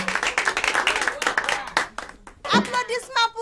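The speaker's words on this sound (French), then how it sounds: "Applaudissements pour les déesses." A group claps in brisk, rhythmic bursts at a family gathering, with voices speaking and calling out over and between the claps.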